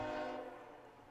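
A GE Evolution and a Dash 9 freight locomotive pass with a rich, chord-like horn blast that fades over a second, heard at moderate distance and fairly faint, with no talking.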